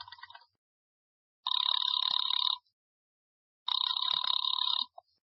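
An old telephone rings on a call in a 1940s radio suspense drama, two long, loud double-tone bursts separated by a pause, with no talk over them.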